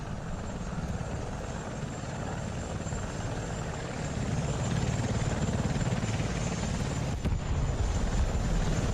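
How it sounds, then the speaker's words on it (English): Helicopter engine and rotor drone inside a multicrew tank combat video game, a steady loud whir that holds unbroken throughout and swells slightly in the second half. "Are you in the chopper?"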